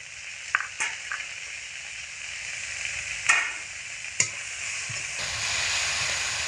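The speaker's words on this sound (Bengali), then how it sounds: "মশলা দিয়ে আলু খুব ভালো করে 2 থেকে 3 মিনিট মতো অনবরত নাড়াচাড়া করে লো টু মিডিয়াম আঁচে রেখে কষিয়ে নিয়েছি" Potatoes with red chilli powder, cumin powder and chopped tomato sizzle in a pan over low to medium heat, with a steady frying hiss broken by several sharp scraping stirs of a spatula.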